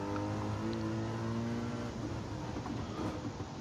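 Race car engines in Gran Turismo 7 on the last lap, a loud, steady high whine with rising pitch that then gives way to rougher engine noise, no talking.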